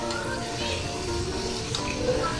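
Potato rolls frying in oil in a pan give a steady, soft, continuous sizzle throughout, fairly faint and even, with no talking over it.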